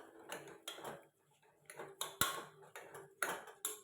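Soaked rice being stirred into sautéed ingredients in a pot, with a run of clinks and scrapes from a utensil against the metal, spaced irregularly and fairly quiet and near.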